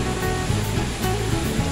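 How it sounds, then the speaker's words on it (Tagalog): A waterfall at Villa Escudero pours in a steady, loud rush of broadband water noise that fills the whole clip, with no voices over it. "Pababa tayo ngayon sa waterfalls"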